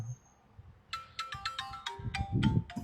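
A phone ringtone plays a quick melodic pattern of bright electronic notes, fairly close, over faint background rumble.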